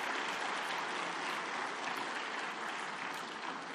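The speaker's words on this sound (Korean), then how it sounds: "다시 한번 큰 박수 부탁드립니다" An audience at a church winter camp gathering gives a big round of applause, thick continuous clapping from a large crowd heard from a distance at a low level, with no talk over it.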